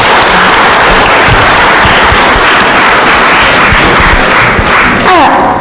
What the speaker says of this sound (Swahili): naomba muwapigie makofi